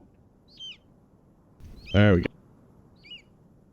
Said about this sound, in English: Does anybody hear the birds?